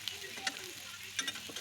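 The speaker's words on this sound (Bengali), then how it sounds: "সব মশলাগুলি দিয়ে এখন ভালো করে নেড়ে চেড়ে মশলাটাকে কষিয়ে নেব।" Spices being stirred into frying onions in a pan for an egg curry give a quiet, steady sizzle, punctuated by several light scraping clinks of a spatula against the pan.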